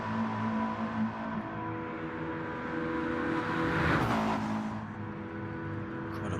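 A McLaren race car laps a circuit in a racing video game, its engine droning steadily throughout and swelling briefly louder near the middle as it passes, with layered mechanical whine over a constant rumble.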